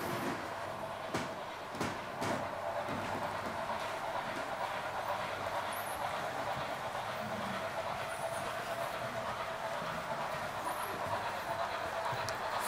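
A small Märklin H0 model train runs steadily through a station on a large club layout, with a soft mechanical whir and occasional light clicks over track joints, fairly close and even in level.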